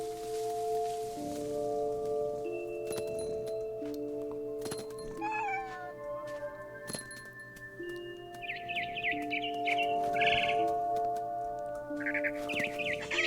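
Small bird chirping in What Remains of Edith Finch, with high, scattered tweets and trills over steady layered game music and ambient tones, the brighter chirps bunching up near the end.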